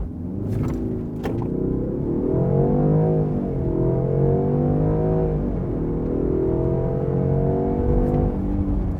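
A 2021 Land Rover Defender 90 accelerates hard from 0 to 100 km/h, its engine note rising and falling through gear changes in a loud, continuous roar heard from inside the cabin.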